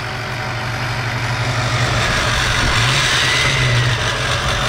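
Loud Chevrolet Astro van engine running steadily in Florida, a constant deep mechanical drone with a low throbbing hum, close and continuous throughout with no talk over it.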